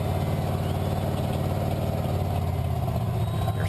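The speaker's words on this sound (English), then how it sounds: "Engine's still running." A heavy truck engine idles steadily and loudly nearby, a constant low rumble with no break throughout.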